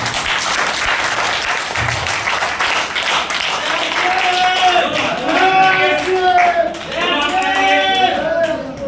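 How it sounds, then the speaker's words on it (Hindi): Audience at a seminar or class breaking into loud, dense clapping that continues throughout, with excited voices and whoops rising over the applause. "एक बार फिर से दोनों हाथ को खड़ा करके ताली बजा दीजिए जोरदार, जोर से।"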